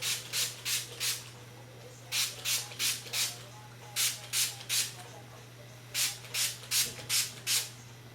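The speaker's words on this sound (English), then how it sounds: "I spray on a leave-in conditioner" Carol's Daughter leave-in conditioner is sprayed onto curly hair in repeated groups of three or four quick, close pump-spray hisses with short pauses between groups, over a faint steady hum.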